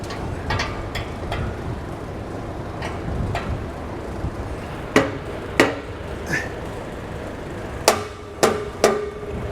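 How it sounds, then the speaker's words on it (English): A series of sharp metallic hammer strikes on a vehicle exhaust pipe, a few spaced taps then louder clanging blows in quick groups, over steady background noise. "you can either take a soft blow hammer and kind of hit the pipe"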